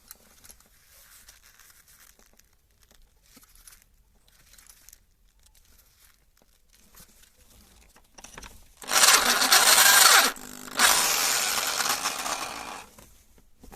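An M8x1.25 tap cuts threads into the thermostat housing of a 1982 Datsun Urvan's SD23 engine: two loud, harsh grinding bursts back to back after a long quiet stretch, up close with no talk.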